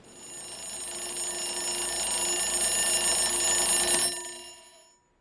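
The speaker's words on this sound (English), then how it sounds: "The alarm clock on his bedside table woke Cuthbert." An alarm clock on a bedside table rings with a continuous bright metallic bell for about four seconds, then cuts off and fades, close and alone.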